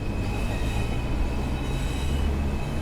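A TfW Class 142 diesel railcar in Train Sim World 6 runs along with a steady deep rumble and a constant whining tone above it, unbroken and close, with no voices.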